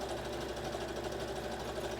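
Sewing machine stitching a hem on bright fuchsia viscose for a kimono wrap dress, a steady fast continuous whirring hum running throughout, close and even.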